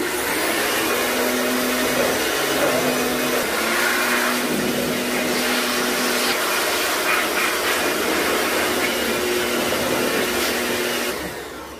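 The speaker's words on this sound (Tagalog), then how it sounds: "bugahan muna natin to ng electric blower" A loud electric blower whines and hisses continuously while blowing dust from a 2013 Toyota Hilux pickup's engine bay, with a steady motor tone and rushing air, cutting off abruptly at the end.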